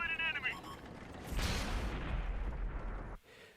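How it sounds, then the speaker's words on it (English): A tank cannon shot from a VK-3601H in console World of Tanks: a heavy booming blast with a long low rumbling tail that cuts off abruptly, following a brief stretch of game audio. "So we just took a shot from that VK-3601H"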